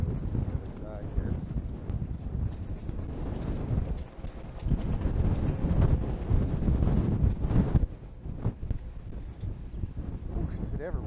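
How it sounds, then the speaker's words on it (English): Gusty wind in a park buffets the microphone with a low, rumbling roar that surges and eases over about eleven seconds, while people talk now and then. "Is it ever windy today?"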